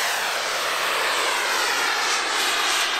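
A Freewing model jet with a 90 mm electric ducted fan runs at a model aircraft meet on the airfield at Místek, a loud, steady, close-up rushing whine that holds constant throughout with no voices.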